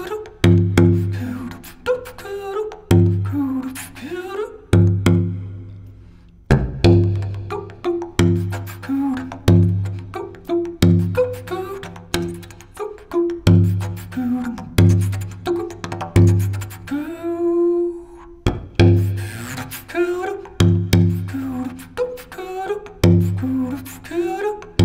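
Didgeridoo in C of the Moytze model played in aircode style, a steady deep drone broken by rhythmic throaty pulses and occasional higher vocal overtones, loud and close, played alone for about twenty-five seconds.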